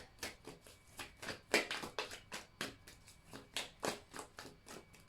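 A tarot card deck is shuffled by hand in quiet, close, rhythmic bursts of papery riffling and shuffling, repeating about a dozen times with short gaps, no voices heard.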